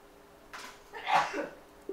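A single sneeze bursts out at a workbench during an iPhone X circuit board repair, short and fairly close, with a softer intake before and a faint click near the end.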